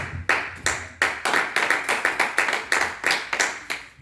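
A church congregation claps during a thanksgiving service, with loud, fairly steady handclaps building into a dense rhythmic burst that lasts throughout.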